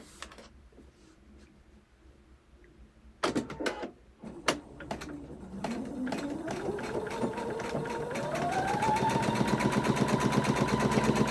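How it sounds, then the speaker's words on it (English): A sewing machine stitching a quilt block starts with a few clicks and handling taps, then its motor speeds up into a steady, rapid, close stitching rhythm. "take that to the sewing machine."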